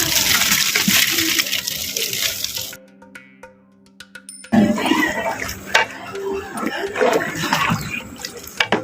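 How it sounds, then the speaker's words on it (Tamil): Five kilos of soaked basmati rice tipped into boiling water for Chettinad vegetable biryani make a loud rushing splash, a brief near-silent pause midway, then further bubbling and splashing. "நல்லா கொதி வந்துருச்சு ஊற வச்ச பாசுமதி அரிசி வந்து அஞ்சு கிலோ வந்து சேர்த்துக்கலாம்"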